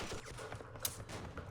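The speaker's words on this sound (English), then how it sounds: "That damn machine gun." Machine gun fire in the Campaign Series Vietnam war game, a rapid, dense crackle of shots running steadily through the short stretch, with one sharper crack standing out near the middle.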